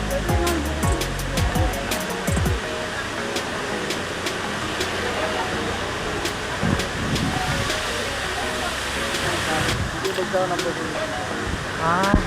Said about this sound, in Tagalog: dito na kami sa Tamaraw Falls, tourist destination dito sa Puerto Galera